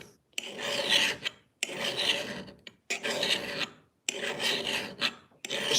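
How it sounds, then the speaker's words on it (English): A machete blade is sharpened by hand with a file, five long rasping strokes in a steady rhythm, close and clear with short pauses between them. "Sharpening your machete."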